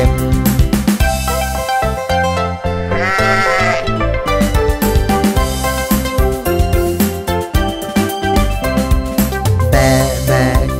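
Repeated sheep bleats sound loudly over a busy, bouncy Thai children's cartoon nursery song based on Baa Baa Black Sheep, with music filling the whole stretch.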